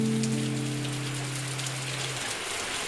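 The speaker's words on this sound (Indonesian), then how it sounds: "Oke, teman-teman, jadi ini hujan ya." Steady rain falls on a surface nearby, a dense, even hiss of drops throughout with no talking.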